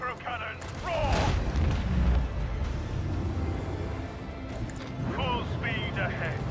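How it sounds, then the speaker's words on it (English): Starship macro cannons in the game Rogue Trader thunder in a sustained low barrage, peaking around the first two seconds and again near the end, with short voice-like sounds layered over the booms. "I want to hear the macro cannons roar."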